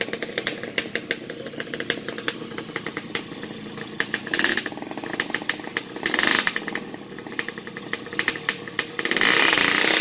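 A Yamaha RX King motorcycle engine warms up before a race, revving loudly and unevenly with sharp two-stroke bursts and louder surges near the end, with no talk.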